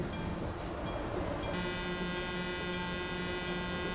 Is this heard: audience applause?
no